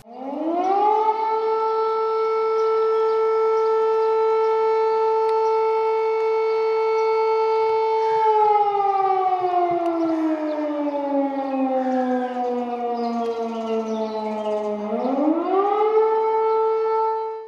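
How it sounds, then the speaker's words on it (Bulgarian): Civil defense sirens wail across a town square in Kyustendil for a memorial minute honoring Botev and fallen freedom fighters, a long steady tone that slowly falls and then rises again, loud and unbroken. "когато вой на сирени оповести минутите за преклонение пред подвига на героите"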